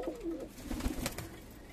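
Pigeons coo in a Bangladeshi pigeon house holding Madrasi and other fancy breeds, giving low, soft throaty calls in short bursts over a steady background murmur.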